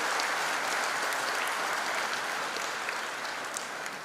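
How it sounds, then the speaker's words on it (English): Audience applause at a freshers' induction program, a steady wash of many hands clapping that holds at an even level throughout with no pauses. "Please give a big applause to your wards."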